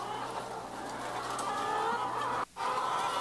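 Caged hens in an intensive egg farm keep up a dense, unbroken chorus of clucking and squawking that fills the shed, with a brief dip in the noise near the end.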